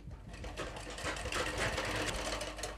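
A sewing machine stitches cancan net into a gown, running steadily and close with a continuous whirring, rapid needle patter throughout and no pauses.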